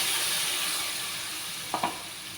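Tomato puree goes into hot oil in a pan for rasam and gives a loud, close, continuous hissing sizzle, with a couple of short stirring knocks near the end.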